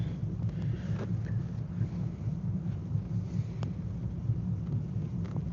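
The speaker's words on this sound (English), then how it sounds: "Look at this weather. Woo! Windy." Strong outdoor wind buffets the microphone as a steady low rumble and roar that runs continuously and fairly loud throughout, with no voices.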